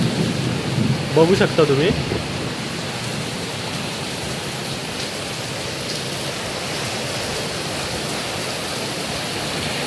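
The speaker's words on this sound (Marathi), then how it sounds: "भरपूर 2 दिवस झाले रोज पडतोय पाऊस. पावसाचा रुद्र अवतार बघा" Heavy monsoon rain pours down in a dense, loud, unbroken hiss with a low rumble of thunder underneath, and a voice speaks briefly near the start.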